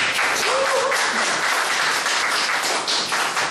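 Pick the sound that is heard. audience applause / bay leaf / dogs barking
audience applause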